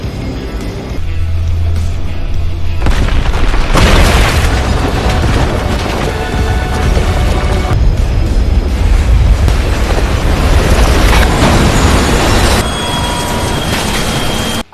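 A loud, sustained rumbling blast from a train explosion, with crashing, roaring noise that surges and fades over several seconds, heavy and close.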